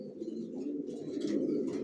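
Racing pigeons coo together in a loft, a continuous low throaty murmur from several birds close by, steady and fairly loud with no talking.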